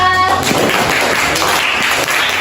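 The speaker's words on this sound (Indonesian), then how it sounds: "Oke, kasih tepuk tangan untuk kelompok 4" A classroom of students applauds group 4 after their presentation on Manggarai culture, a dense, steady wash of many hands clapping together, loud and continuous throughout, with no talk over it.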